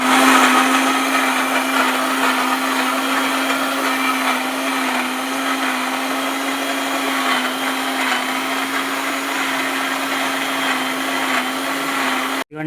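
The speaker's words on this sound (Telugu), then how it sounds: "మూత పెట్టేసుకొని ఇప్పుడు మిక్సీ ఆడించుకోవాలి." A mixer grinder blends coconut pieces with water into a paste, a loud steady motor whine with a strong constant hum, running continuously and alone before stopping abruptly at the end.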